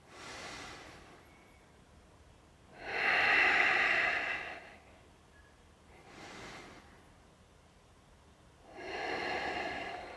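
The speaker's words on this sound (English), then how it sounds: "2 inhales, 2 exhales." Slow, deep breathing during a hatha yoga flow: two long airy inhales and two exhales alternate in an even rhythm, close and soft, with quiet gaps between each breath and no talking.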